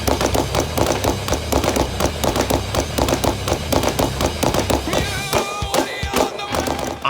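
Rapid bursts of AR rifle fire outdoors in the snow, loud and close, with dense repeated shots rolling together over several seconds and a brief ringing tail near the end.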